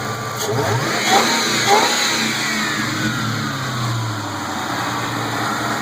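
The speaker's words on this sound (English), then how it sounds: "Roush supercharger, I believe that's the M90, and it sounds really, really nice" A 1998 Ford Mustang GT V8 fitted with a Roush M90 supercharger and BBK throttle body revs up, engine note rising and falling through a couple of throttle blips over a steady idle, close and loud with supercharger whine.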